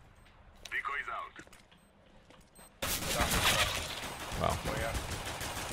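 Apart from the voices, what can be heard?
USP pistol gunshots in the video game Counter-Strike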